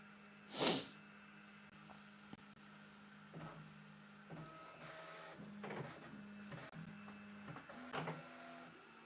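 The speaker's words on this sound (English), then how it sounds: "Now it's calibrating. Okay, let's sit and watch, and we will do Q&A, and we will hear the noise levels of this machine from this distance too." A Bambu Lab H2D 3D printer calibrating indoors, its motors giving off stepped whirring tones that start, stop and shift pitch, heard from a short distance at moderate volume, with one loud sneeze near the start.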